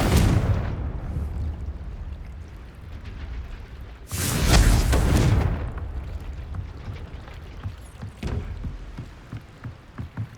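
A Confringo explosive spell goes off in Hogwarts Legacy: a loud, close burst of blast noise that follows rumbling combat and fades into scattered crackles and thuds.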